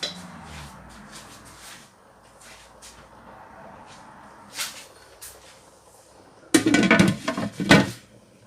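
Metal lid set onto a cooking pot of Congolese-style bouillabaisse, a loud cluster of clattering clanks and knocks near the end following quieter kitchen rustling.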